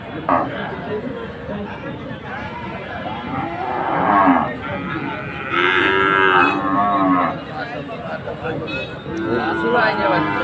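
Cows at a busy cattle market in Tebaria, Natore, lowing in long, loud drawn-out moos close by, several calls in succession over the chatter of traders and a crowd murmuring around them.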